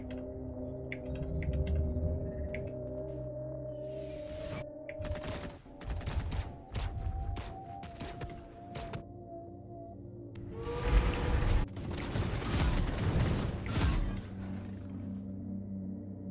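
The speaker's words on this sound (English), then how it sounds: "we just airstrike" Explosions and bursts of gunfire from a ZeroSpace real-time strategy battle during an airstrike, loud clustered blasts and rattling shots over a steady game soundtrack, with a heavy barrage near the end.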